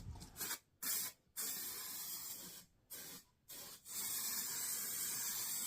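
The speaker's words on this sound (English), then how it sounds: "all I'm doing is dropping a bit of spray glue on" Spray adhesive glue hisses from a can onto a panel during a VW camper van conversion, in several short bursts followed by a longer steady spray, close and fairly quiet.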